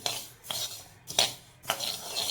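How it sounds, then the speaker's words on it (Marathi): Scraping and rasping of a utensil against a heavy-bottomed pan as sesame seeds dry-roast over a low flame, repeated in steady strokes about every half second, close and fairly quiet. "मी जाडबुडाची कढई घेतली असं एकसारखं हलवत राहायचं"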